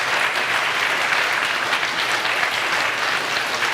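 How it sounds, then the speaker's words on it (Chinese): A church congregation at a Taiwanese-language service applauds to welcome a speaker, steady full-room clapping that stays even and fairly loud throughout, with no talking over it. "咱发鼓掌来欢迎一下哈"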